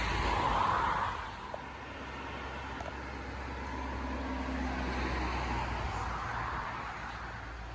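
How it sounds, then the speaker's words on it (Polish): Steady low rumble of passing road traffic heard near Mikołajki, Poland, swelling and fading as vehicles go by at a distance, with no voices. "Też tu fajnie, tylko ta droga trochę za głośno dla nas."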